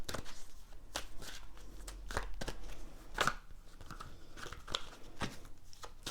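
Tarot cards are shuffled by hand in irregular bursts of crisp, papery riffles and slaps, close and fairly quiet, with a few sharper snaps between quieter pauses.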